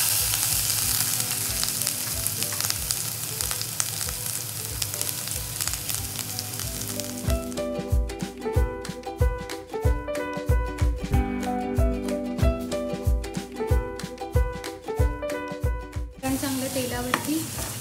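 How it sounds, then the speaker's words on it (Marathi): Spice paste sizzles and fries loudly in hot oil in a pan, a steady crackling hiss with bursts of stirring clatter through the middle stretch; no one speaks. "चांगलं तेलावरती परतून झालं की मी मसाला टाकणार आहे याच्यामध्ये"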